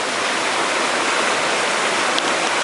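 A waterfall on the Harding Truck Trail roars as a constant, dense rush of falling water heard close up, filling the whole stretch with steady broadband noise and no voices.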